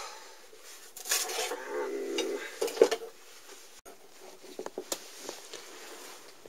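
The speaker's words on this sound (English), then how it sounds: "I need to empty out the ash pan" Ash pan of a narrowboat stove being pulled out and emptied, quiet metallic scrapes, clinks and a rattle of ash close by, with a few light knocks afterward.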